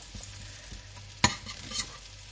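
Lamb rissoles of leftover lamb and potato bound with egg and flour fry in a pan with a steady close sizzle, broken by a sharp clack of a utensil and a brief scrape.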